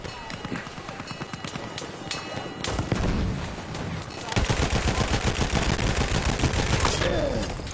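Rapid gunfire and bursts of shooting in Battlefield 1 on PS4, a quieter stretch giving way to sustained, loud machine-gun fire with explosions mixed into the battle din.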